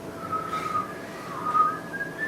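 A person whistles a short, wavering tune, with clear sliding notes over a soft background murmur.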